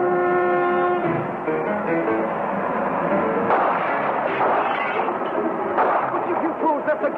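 A gun fires from a wagon in a horror film, with heavy booming shots breaking through a loud, dense dramatic score and voices.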